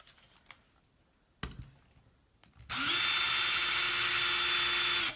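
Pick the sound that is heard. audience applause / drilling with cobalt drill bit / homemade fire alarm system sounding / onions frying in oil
drilling with cobalt drill bit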